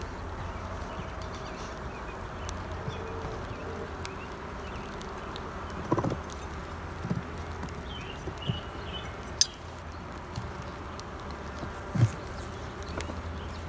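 Honey bees buzzing around nucs during queen installation at a hive: soft continuous hum of many bees, fairly faint, with a few small knocks and handling clicks, no talk.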